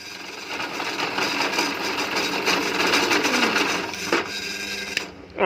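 Cutting tool machining valve reliefs into a Sonic motorcycle piston crown for 30 and 26 mm valves, a steady loud whirring grind that runs continuously for about five seconds before cutting off abruptly.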